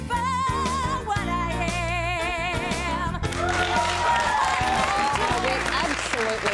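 A crowd applauds and cheers at a home gathering, the clapping and shouts swelling over music and voices that fill the first half.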